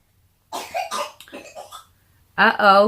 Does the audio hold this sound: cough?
yes